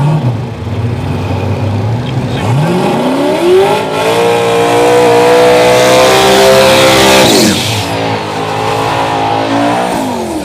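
A Ford Mustang does a burnout at a raceway, its engine revving hard and climbing in pitch while the tires squeal. The sound is loud and close, then the revs drop and build again.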